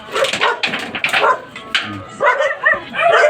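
Several dogs bark and yip repeatedly in quick, excited bursts close by, mixed with people talking, at an outdoor gathering preparing food for a Christmas party.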